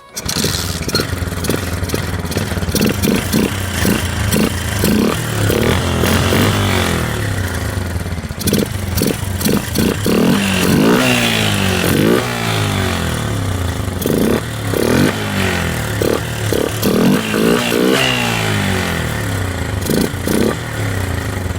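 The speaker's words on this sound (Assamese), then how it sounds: "বাইকৰ চাউণ্ডটো এইখন ষ্টাৰ্ট কৰি চাওঁ" A motorcycle fitted with a new air filter starts up and runs close by, its loud engine chugging in a steady rhythm with repeated throttle blips and revs that continue throughout, with no talking.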